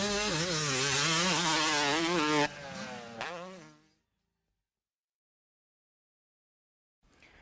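A motocross motorcycle accelerates hard on the throttle out of a corner, its loud engine rising in pitch for about two and a half seconds before backing off and fading into silence.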